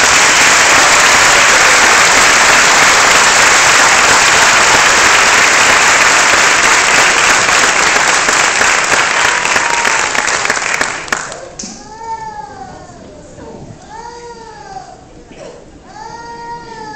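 Loud theatre applause at the Teatro Municipal de Valencia for a singer with an orchestra, a dense roar of clapping for about eleven seconds that cuts off abruptly, followed by quieter hall sounds and high wavering tones.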